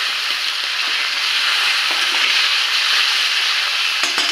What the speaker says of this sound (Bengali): এর মধ্যে আমি যে টমেটোগুলো কেটে রেখেছিলাম দিয়ে দেবো এই তেলের মধ্যে আমি রান্নাটা করে দেবো